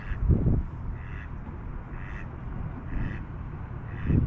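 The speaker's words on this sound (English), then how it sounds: "right in front of me in the water is a duck." A duck on the water quacks repeatedly in short, evenly spaced calls, fairly close, over steady outdoor background noise.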